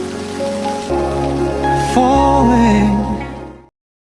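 Rain falls on an umbrella at night as a steady, dense hiss of drops close by. Sustained musical tones sound over it for about three and a half seconds, then it cuts off abruptly.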